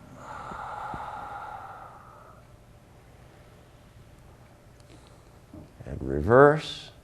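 A long, steady exhale through the nose and mouth during a somatic dishrag breathing exercise, breathy and close, fading out before a voice speaks briefly at the end.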